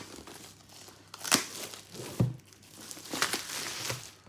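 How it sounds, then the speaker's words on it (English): Plastic wrapping being peeled and crinkled off a music boxset, with sharp tearing bursts and rustling crackles recurring across the clip, close and fairly quiet, no talk. "So let's get opening this. So peel this off."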